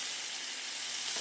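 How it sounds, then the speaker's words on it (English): Vegetables for a vegan marinara sauce saute in a pan, giving a steady, close hiss of sizzling that swells slightly at the end. "as this is here and it's sauteing and it's doing its thing"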